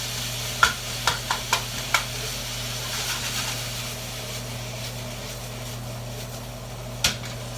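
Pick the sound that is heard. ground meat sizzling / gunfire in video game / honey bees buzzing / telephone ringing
ground meat sizzling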